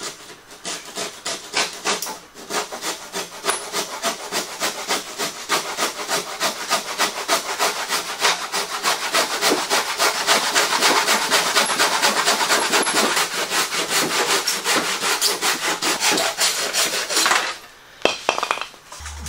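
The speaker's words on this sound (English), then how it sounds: "you in effect have made a jig to hold your saw to do the sawing" A handsaw works through wood held steady in a homemade jig on a DIY workbench build, giving a long run of fast, even rasping strokes that are loud and close, then stop near the end.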